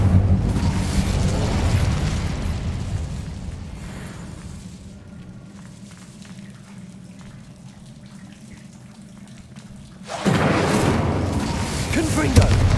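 An Incendio fire spell in the Hogwarts Legacy video game bursts out as a loud, roaring, whooshing rush that dies down into a quieter crackling hum. The roar flares up again strongly near the end, and a voice is heard alongside.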